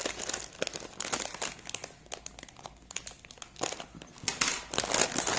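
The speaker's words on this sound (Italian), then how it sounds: "Tanto mi sa che questo sacchetto si bucherà tempo zero." A plastic shopping bag crinkles and rustles steadily as it is pulled open by hand, close and fairly loud, with dense crackling bursts and no talk.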